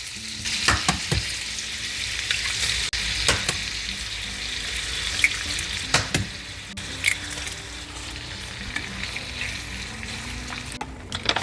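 Steak and eggs fry in a hot pan with a steady close sizzle, broken by a few sharp scraping and stirring knocks.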